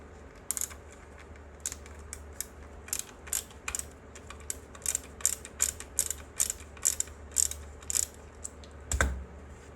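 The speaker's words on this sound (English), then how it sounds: "I'm gonna go ahead and remove these screws" Screws being backed out of a Rock Island VR80 12-gauge shotgun stock, a run of small rapid ratcheting clicks from a driver in close, quiet bursts, with one heavier knock near the end.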